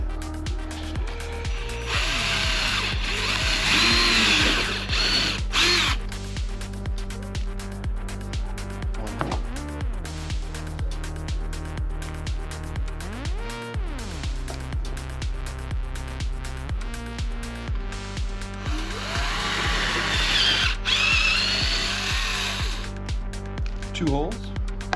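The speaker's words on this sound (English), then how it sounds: "Now I've secured this drill bit into the drill." A power drill bores holes in a plastic bucket lid set on a wood block, making two loud whirring bursts several seconds apart, at the start and near the end, with someone talking throughout.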